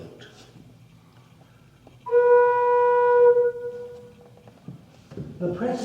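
Open flute pipe of a pipe organ holds a single clear, steady tone for just over a second amid quiet room noise, with a brief rustle or voice near the end.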